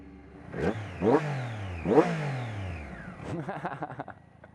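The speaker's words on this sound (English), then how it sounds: "your bike sounds so sweet if you actually rev it" A motorcycle engine at a racetrack revs up sharply twice, each burst rising then falling back, followed by a rough, sputtering idle, close by.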